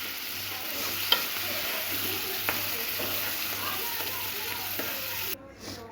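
Mashed vegetables for pav bhaji sizzle and fry in oil in a pan while being stirred, a steady close hiss with faint scraping taps, ending abruptly.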